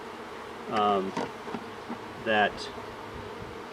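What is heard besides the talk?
honey bees buzzing around a hive feeder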